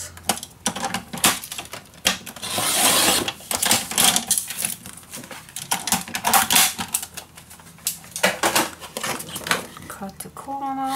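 Scissors cut Ciao Bella patterned paper for a folio craft project, giving a quick run of crisp, close snips and clicks while a voice talks over them.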